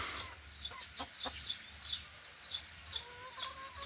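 Chickens cluck in a backyard poultry yard that also keeps ducks, sounding as a string of short, repeated calls roughly every half second over a low steady background hum.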